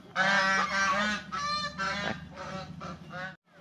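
Several geese honk loudly and close by, a run of harsh repeated calls in quick succession with brief gaps, then a sudden stop.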